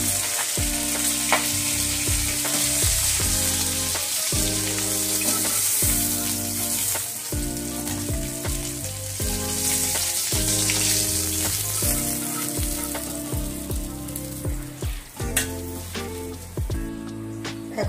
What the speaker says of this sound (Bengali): এখন আমি পেঁয়াজ কুচি দিচ্ছি তেলের মধ্যে।